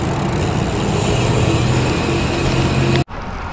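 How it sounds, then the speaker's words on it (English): Steady road traffic noise from a frontage road while cycling near FM 1485 in New Caney, a loud continuous roar with wind that cuts off abruptly near the end. "Get away from the traffic noise and get some peace and quiet."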